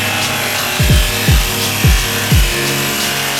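Reciprocating Sawzall cutting through the floor pan of a Honda Civic, heard as four or five short descending rasping strokes about half a second apart over a steady background hum.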